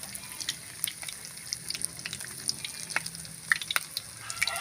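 Battered banana blossom pieces frying in hot oil, a close, steady crackling sizzle scattered with sharp pops and spits, with no voices.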